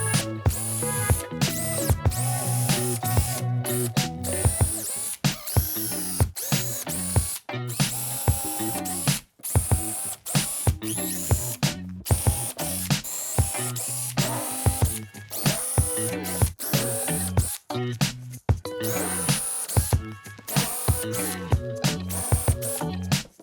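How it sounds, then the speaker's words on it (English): A power drill whirs in repeated short bursts, starting and stopping again and again as it bores a series of pilot holes around the bottom of a wooden food carrier, close and loud. "drill our pilot holes all the way around the bottom"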